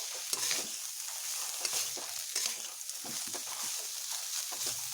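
Chhana, a fresh cottage cheese, fries in a spiced pan while being stirred repeatedly, with rhythmic scraping strokes over a continuous sizzle, close and without talk.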